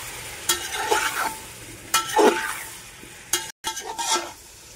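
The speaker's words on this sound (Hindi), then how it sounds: "मसाला भी डाल दिया, थोड़ी तेल की भून लेते हैं।" Spices fry in oil in a pot while khichdi is being made, with a soft sizzle under repeated scraping stir strokes, close by, in several bursts with short pauses and no talking.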